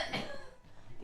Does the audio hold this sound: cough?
yes